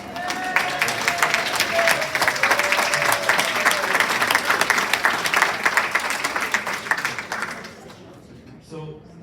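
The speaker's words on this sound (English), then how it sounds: "the round of applause" A resident council audience applauds a staff member in a loud, steady round of clapping that fades out near the end, with a voice heard over it.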